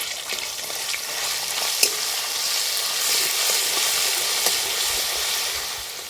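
Garlic paste sizzles in hot oil with cardamom, cinnamon and cloves, a steady bright frying hiss close up with a few sharp spatters and stirring clicks, no voices.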